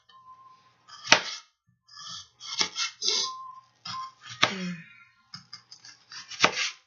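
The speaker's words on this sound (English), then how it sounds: "I'm going to cut up some onion real fast" An onion sliced quickly with a knife on a board, a series of sharp, close chopping taps in an uneven rhythm with short pauses between bursts.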